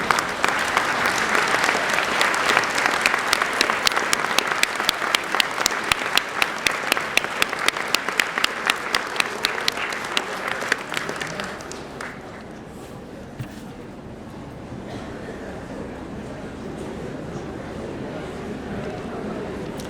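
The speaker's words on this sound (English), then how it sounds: "find the faces of those loved ones in the crowd and give them a resounding" A graduation audience in a hall gives a loud, dense round of applause lasting about twelve seconds, then it stops abruptly into a quiet room murmur.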